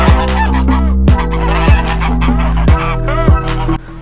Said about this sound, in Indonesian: Bebek adalah salah satu hewan dengan golongan unggas.